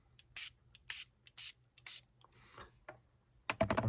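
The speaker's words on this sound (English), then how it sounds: "So again, down it goes, and just spray lightly" Short light bursts of Tim Holtz Distress Resist spray hiss from a pump bottle onto card, about six quick evenly spaced puffs, close and crisp, followed by soft rubbing and handling noises.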